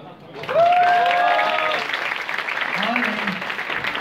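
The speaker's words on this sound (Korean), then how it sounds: "다시 한번 박수 부탁드리겠습니다." Audience applause after a presentation at a Korean game update event, a broad steady wash of clapping that swells quickly and holds for several seconds, with a brief faint voice sound underneath.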